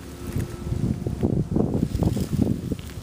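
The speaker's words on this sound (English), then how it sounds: "Sorry about the wind if you hear that." Wind buffets an outdoor microphone with low, gusty rumbling that swells and fades in uneven bursts throughout, fairly loud and close, with no other clear sound.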